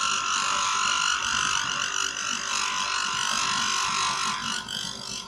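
A square carbide lathe tool squeals continuously, a harsh high-pitched screech with wavering tone while turning a copper patina pen blank, loud and close with no talk.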